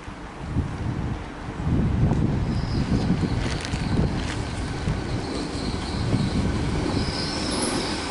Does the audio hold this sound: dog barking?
no